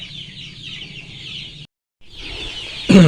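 Chickens being fed cluck steadily close by, with a brief gap of silence before the clucking resumes and a louder squawk at the end.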